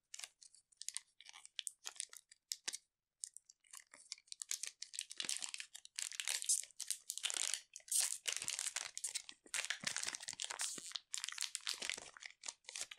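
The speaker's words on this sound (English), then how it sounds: "we have pulled the cards out of the pack" Crinkly plastic foil of a 2004 Digimon Hybrid Warriors booster pack being torn open and crumpled, with sharp irregular crackles and rustles up close that come in bursts and grow busier midway, no voices.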